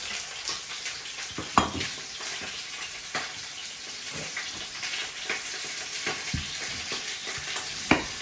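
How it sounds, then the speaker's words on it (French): Goat meat browns in a hot pan for a tajine, giving a steady close sizzle and crackle with occasional sharper pops and stirring scrapes and no voices. "Il faut bien colorer votre viande avant de commencer à mettre vos oignons ou les épices."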